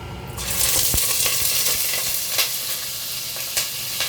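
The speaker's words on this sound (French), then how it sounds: "là on va frire notre viande, l'huile est grave chaude" Fresh pork frying in very hot oil gives a loud, continuous sizzle from start to end, with occasional sharper crackles and spatters close by.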